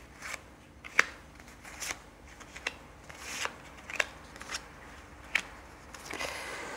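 Tarot cards being laid out on a table, with sparse soft slaps and sliding card sounds spaced a second or so apart, close and quiet.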